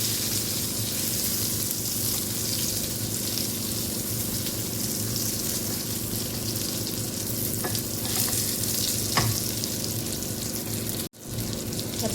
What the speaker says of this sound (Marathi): वांगी परतून घेऊया आपण, छानपैकी असे परतून घ्यायचे आहेत आपल्याला तेलामध्ये